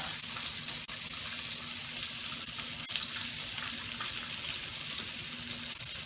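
Liver fries in a pan in a steady, close, hissing sizzle that carries on unbroken, with a faint low hum beneath and no talking.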